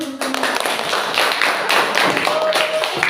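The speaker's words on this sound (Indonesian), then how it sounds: "beri tepuk tangan untuk semua" A class of children claps for everyone, a steady patter of many hands clapping together in a classroom, close and lively, with a brief voice audible at the start.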